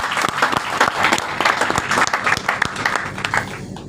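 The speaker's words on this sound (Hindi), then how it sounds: "एक बार ताली बजाएं प्रभु की महिमा के लिए" A church congregation in Dubai bursts into loud, vigorous applause, with dense overlapping claps, some sharper individual strikes standing out close by, sustained throughout at full strength.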